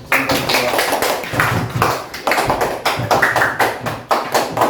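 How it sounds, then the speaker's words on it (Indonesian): Quick bursts of hand clapping from a small group at a school activity, dense and fairly loud, rising and falling over a few seconds without talk. "Tepuk tangan bro."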